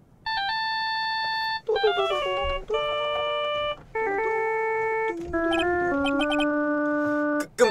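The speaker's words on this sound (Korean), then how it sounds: "혹시 벨소리 탓인가?" A phone ringtone plays in Ace Attorney 2 (Gyakuten Saiban 2), a clear electronic melody of sustained tones in stepped phrases that repeats loudly and without voices before cutting off.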